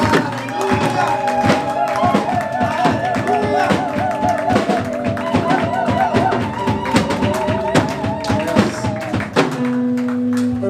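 A church congregation at a French-language Resurrection celebration claps and cheers loudly, with rhythmic clapping, thumps and crowd voices layered over music that continues steadily throughout.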